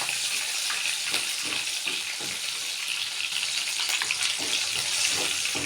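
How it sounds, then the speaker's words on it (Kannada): Green chillies frying in hot oil in a pan, giving a loud, continuous crackling sizzle with occasional sharper pops and stirring sounds, and no talk over it. "ಮೆಣಸಿನ್ಕಾಯಿ ನೀಟಾಗಿ ಫ್ರೈ ಆಗಬೇಕು."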